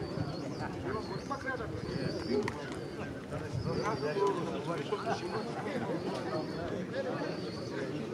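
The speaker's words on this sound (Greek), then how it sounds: "Έχουν αρχίσει και έρχονται τα περιστέρια." Racing pigeons arriving back at a loft in Kozani, cooing softly amid a busy background of wingbeats and bird calls, fairly faint and continuous, with human voices mixed in.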